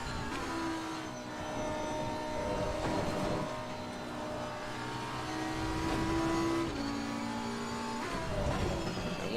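A heavy GT3 race car in Assetto Corsa Competizione, its engine droning steadily and shifting pitch as it revs up and down through gears, loud and continuous with no talk.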